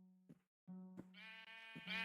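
Sheep in the video game Minecraft bleat in three or four short, nasal calls separated by brief gaps, quiet and isolated with no talking.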